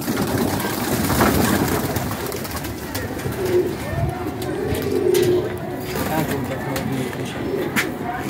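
Pigeons at a pigeon club coo in low repeated phrases, close by, against a busy background with people talking over and between the calls.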